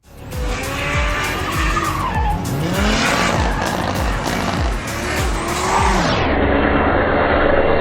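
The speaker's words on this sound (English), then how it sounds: "his main car in Australia, 180SX, throwing a clip of me and him driving now" A Nissan 180SX drift car with an RB25 engine of about 500 horsepower skidding, loud continuous tire squeal layered over a revving engine that rises and falls repeatedly, close and dominant throughout.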